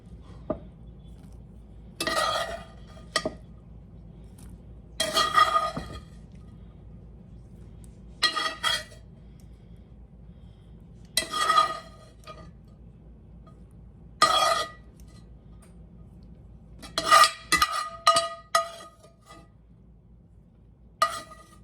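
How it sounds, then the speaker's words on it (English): Sausage is added to a pot and stirred, giving a series of separate metal clanks and scrapes spaced a few seconds apart over a quiet background. "Next thing we're going to do is add in our sausage"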